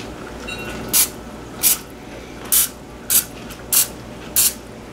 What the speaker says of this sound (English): With some nonstick baking spray,